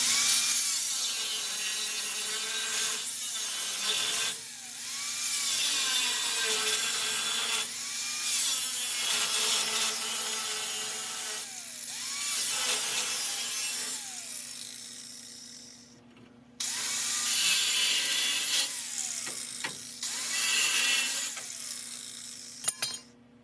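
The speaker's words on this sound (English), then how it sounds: "I cut the inside of this factory cross brace just a little more." An angle grinder cuts into the factory cross brace of a 1964 Ford F100, a sustained harsh whine running in long passes broken by short pauses, close and loud with no talk.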